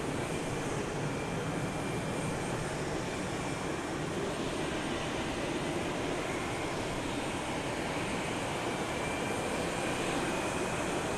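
UPS heavy jet climbing out after departure from Houston Intercontinental on a misty morning, a steady distant broadband roar of jet engines with no variation throughout.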